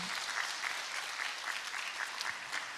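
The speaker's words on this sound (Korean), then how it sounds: "박수로 축복해 주십시오" Steady applause from a church congregation during a Sunday worship service in Korea, dense even clapping heard at a distance in a large hall, with no voices over it.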